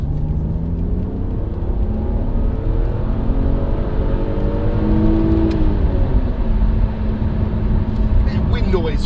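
An old coupe's engine pulls steadily under acceleration from inside the car, a loud continuous rumble whose tone climbs and settles across the run, with wind noise around it.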